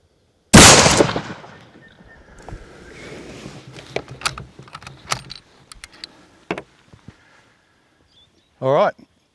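A single rifle shot from a Brno rifle firing a .308 Remington Core-Lokt 150-grain round at a milk-jug target. The sharp, loud crack rings and fades over a couple of seconds, followed by faint rustling and a short vocal sound.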